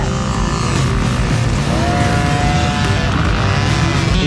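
Dirt bike engine revving loudly and steadily on a motocross track, a continuous close roar with rising pitch sweeps as the throttle opens, filling the whole stretch without talk.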